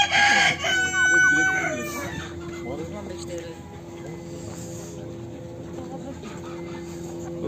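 Roosters crow at a poultry market in Osh Bazaar, Bishkek, with a loud, harmonic cock-a-doodle-doo in the first seconds, then busy market murmur and fowl sounds underneath, with voices talking nearby.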